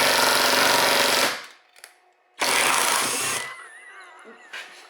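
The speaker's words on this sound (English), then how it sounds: "So next step after taking out the plastic clips is going to be removing the 10 millimeter bolts. So we'll do that with the drill here." Power drill spinning out 10 mm bolts on a Kia Forte: two loud, close bursts of whirring, one of about a second and a half and another of about a second, divided by a short pause, with faint clinks after.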